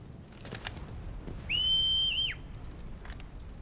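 A single sharp whistle blast in the video game Final Fantasy XVI rings out clearly for under a second over a low, muffled background.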